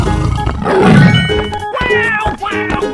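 A tiger in a 3D animal slide video game lets out a loud, drawn-out roar that swells and fades, mixed with game music and effects.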